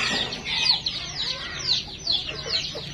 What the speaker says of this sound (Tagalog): ito yung mga produce na mga crossbreed na manok